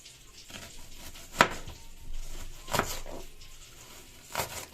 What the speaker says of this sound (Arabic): هقطع البصل ده جوليان نص دايره